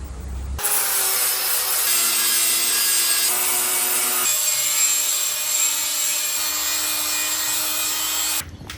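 A power tool grinds and sands a steel bar edge to smooth and round it. It makes a loud, continuous, abrasive whir with shifting tones, starting and stopping abruptly.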